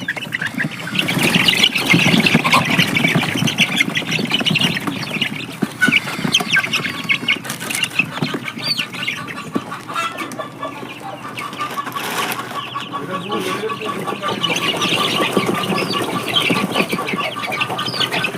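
Chickens from a small farm cluck and squawk continuously while packed in a crate, with several birds calling close by over a busy background.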